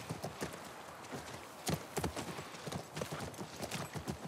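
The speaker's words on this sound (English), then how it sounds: "That's our horse." Horse hooves clip-clop at a steady walking pace on hard ground near a ranch in the video game The Last of Us, moderately close over a low ambient background with no talk.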